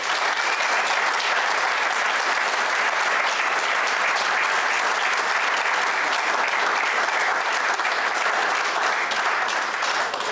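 Dense, steady audience applause fills the space continuously, loud and even throughout like a packed football stand, with no voices standing out.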